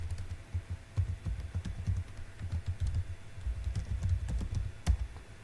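Computer keyboard typing while logging in to a student account, a steady patter of soft close keystrokes with no voices.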